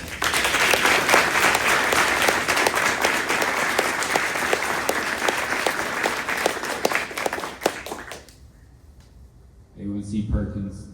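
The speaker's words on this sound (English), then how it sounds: "Please, everyone, give her another round of applause." Sustained applause from a ceremony audience follows a national anthem at a military retirement ceremony, dense and steady for about eight seconds before fading, then a voice begins speaking.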